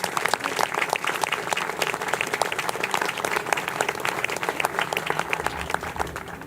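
Sustained applause from an outdoor ceremony crowd at a Marine Corps commemoration, steady dense clapping filling the whole stretch as a lieutenant general walks to the podium.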